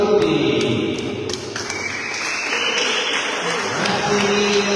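Applause at an awards ceremony for the Sardinian Veterans event in Alghero, a steady wash of clapping from a crowd with scattered sharper claps, continuing throughout at moderate loudness.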